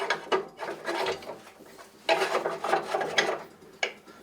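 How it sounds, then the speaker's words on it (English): A knife grinder sharpening jig being set up, with irregular bursts of clicking, ratcheting and scraping handling noises near the mic, separated by brief pauses. "let's get this here grinder sharpener set up"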